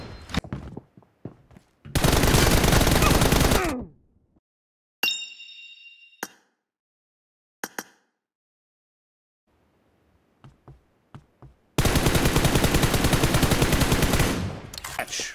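Rapid automatic gunfire from a PUBG Mobile team deathmatch, heard in two loud sustained bursts of a few seconds each, with a few short metallic pings and clinks between them and no talking.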